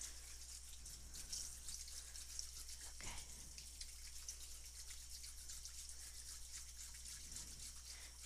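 Running water rinses product out of hair at a salon spa in a quiet, close, continuous trickle and patter, with a brief louder splash partway through.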